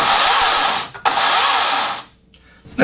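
A Hyundai HYC60Li battery chainsaw runs with a loud, close, high electric whine in two bursts, each about a second long, with a brief gap between them, then cuts off into near silence.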